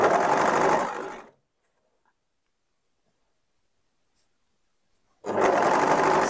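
An overlock sewing machine stitches a top's shoulder seam. A loud, steady mechanical whir runs for about a second, then comes a long silence, and then the machine starts up again at full speed. No one talks.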